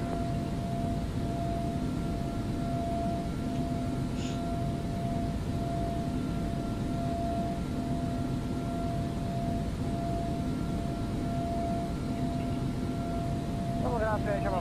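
Airbus engines from an Aerosoft add-on run at full power in a flight simulator, giving a steady, even roar with faint sustained tones that hold without change from start to finish.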